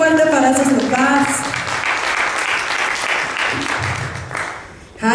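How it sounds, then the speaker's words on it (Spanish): A church congregation applauds the fathers during a service. Loud, sustained clapping from many hands runs under a speaking voice at the start, then settles into a dense, even roar. "Un aplauso fuerte para esos papás."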